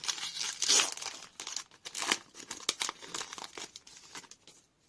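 Pokémon Vivid Voltage booster pack being torn open, with close, loud crinkling and ripping of the foil wrapper in uneven bursts and no talk.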